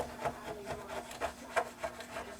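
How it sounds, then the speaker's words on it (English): Light, rhythmic scraping strokes clear excess filler from around the windows of a scale starship model hull, soft and close with regular short rasps and no talking. "I'm just doing a light scraping of the excess"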